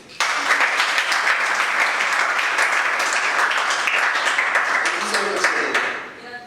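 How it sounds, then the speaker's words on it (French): Audience applause for a performer at a stage event, a loud burst of dense clapping that starts abruptly, holds steady for about five seconds with a few voices underneath, then fades out. "Espoir, on l'applaudit s'il vous plaît"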